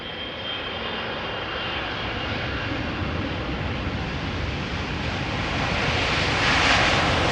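A Boeing 777, KLM flight 744 from Lima, arriving at Amsterdam Schiphol, a continuous loud jet-engine roar with a faint high whine, swelling slightly as it draws nearer, with no voices.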